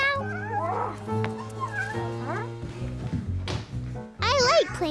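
A voice mimics a cat meow, a short, high, wavering cry set over music and other cartoon voices, with a louder squeaky meow-like sound near the end.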